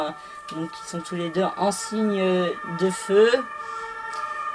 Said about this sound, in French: Désolée pour la sirène.